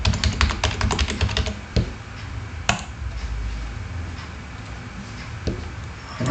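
A code editor app plays its built-in audio feature while users edit code, a dense run of rapid clicking and tapping like keystrokes, with a few sharper knocks, steady and close, without talk.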